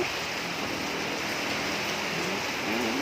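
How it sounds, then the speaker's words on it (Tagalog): Steady typhoon rain pours down in a dense, continuous hiss, with a faint low rumble beneath it throughout. "Umuulan po guys."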